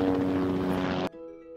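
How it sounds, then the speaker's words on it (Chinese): A helicopter flying over Budapest near Buda Castle, a steady loud rotor and engine drone that suddenly drops to a quieter, thinner hum near the end, with no talking. "竟然出现直升机耶！"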